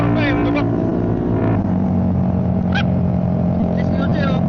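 A motorcycle engine drones loudly and steadily during a ride through Kaybiang Tunnel near Tagaytay, with brief voices heard over the running engine.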